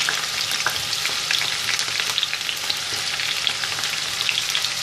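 Steady, dense sizzling of potatoes, peppers and other vegetables frying in a hot pan, with occasional clicks and scrapes of stirring throughout, close and fairly loud.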